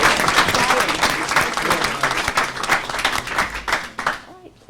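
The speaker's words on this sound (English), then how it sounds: "let's give a round of applause for that great work" Audience applause at a college board of trustees meeting, a dense steady clatter of many hands that holds loud for about four seconds and then trails off quickly.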